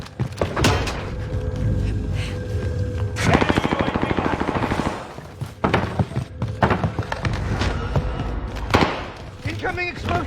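Video game gunfire: a sustained rapid automatic burst lasting a couple of seconds, surrounded by scattered single shots and impacts, loud and close, with voices talking over the action.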